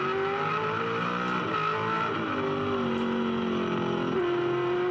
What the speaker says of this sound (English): Bernard's thumping into the back of Ingle as well as they go into turn 5.